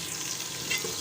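Chicken frying in oil in a pot for chicken pulao, a steady close sizzle with light stirring and no voices.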